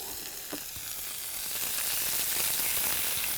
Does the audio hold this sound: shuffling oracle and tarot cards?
no